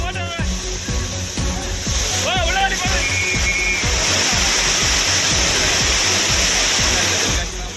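The Courtallam waterfall roars in a loud, constant rush of falling water while tourists bathe beneath it, with splashing and a crowd of voices shouting and calling close by.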